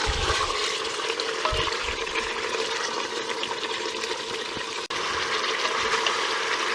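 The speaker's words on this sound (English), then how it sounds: "cooking the meat in the hot oil for about 5 minutes" Pork for carnitas searing in hot oil on a stove set to medium-high, giving a steady, close, continuous sizzle and crackle with occasional stirring clatter and no talking.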